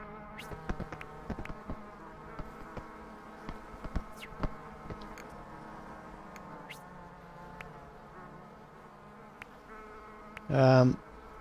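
Bees buzz inside a hive in the video game Hive Time, a soft continuous droning layered with light clicking game effects, ending with a short louder tone.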